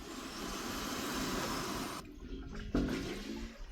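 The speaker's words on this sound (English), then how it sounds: "so that's all the air coming out of that pipe," Air and water rushing out of a pipe and around a check valve in a frost protection system: a steady loud gushing hiss that suddenly drops off partway through, followed by gurgling and a thump.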